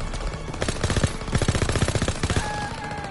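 Pistol gunfire in the World War II shooter Call of Duty WWII, a rapid burst of close, loud shots in quick rhythm over game sound, with a brief tonal chime near the end.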